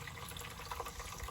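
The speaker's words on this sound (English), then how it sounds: "There she goes. She's filling." Water runs from a hose into a livestock trough fitted with a float valve, on a farm watering cattle and horses. It makes a steady, close rushing and splashing sound with no talking.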